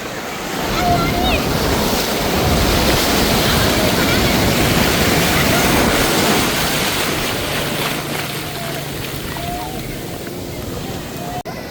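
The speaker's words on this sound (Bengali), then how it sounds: "দেখছেন কি পরিমাণ ঢেউ" Heavy sea waves crash and roll onto a beach in a loud, continuous surging roar with wind buffeting the microphone, and faint voices scattered underneath.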